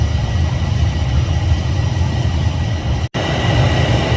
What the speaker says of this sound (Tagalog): Dito tayo sasakay sa train.